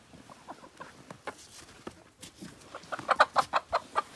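Chickens cluck nearby in the snow in short bursts, building into a quick run of louder rhythmic clucks toward the end.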